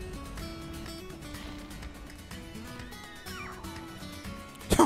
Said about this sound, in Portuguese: O bicho tá miando